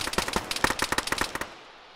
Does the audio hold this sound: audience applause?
no